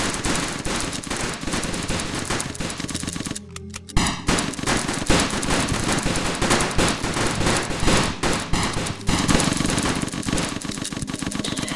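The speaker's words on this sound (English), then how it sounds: "We're shooting at an invisible wall." Rapid automatic gunfire in a Roblox hotel game hammers at an invisible wall, a loud, relentless stream of shots with only a brief break near the start.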